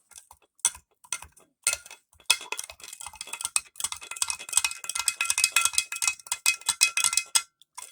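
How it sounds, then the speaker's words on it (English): A metal spoon stirring sugar into tea inside a glass jar, rapid clinking and scraping taps against the glass that grow busier and denser, close and alone. "Now we need to grab our spoon and kind of stir it."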